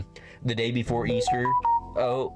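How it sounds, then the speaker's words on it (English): A phone goes off with a short, steady electronic tone, heard briefly in the middle of the clip while someone keeps talking close by. "sorry for my phone going off"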